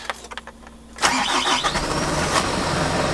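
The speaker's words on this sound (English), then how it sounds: "Let's get this engine started" A Mitsubishi Fuso FG140 diesel truck engine cranks and catches after about a second, after a fuel filter change, then settles into a loud, steady idle close by.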